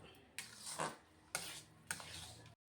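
Semolina kichadi being stirred in a pan, with three distinct scraping strokes of a spoon against the pan at roughly even intervals, close and fairly quiet, ending in a brief cut to silence.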